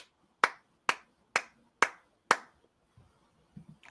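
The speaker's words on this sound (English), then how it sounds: "there was a scattering of applause" A thin scattering of applause from an audience: five sharp, isolated handclaps in a slow, even rhythm, faint and separated by quiet, with a little murmuring near the end.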